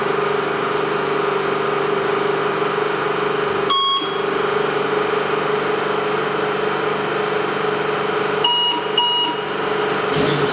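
Colliery winding engine at a Welsh coal mine lowering the cage down the shaft, a steady machinery hum and drone running throughout, with sharp electronic beep signals at one point and again twice near the end.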